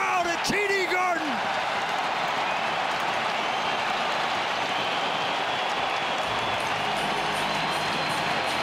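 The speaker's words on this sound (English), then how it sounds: "Listen to the crowd at TD Garden." Hockey crowd at TD Garden in Boston roars during an on-ice fight, a dense, steady wash of cheering noise after a brief burst of announcer-like voice at the start.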